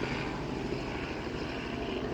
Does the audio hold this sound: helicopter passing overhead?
yes